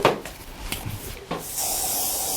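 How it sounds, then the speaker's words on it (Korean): Hairspray is sprayed onto a Korean hanbok side-braid updo during styling, a steady close hiss starting partway through and holding to the end after some soft handling rustles. "스프레이를 이용해서"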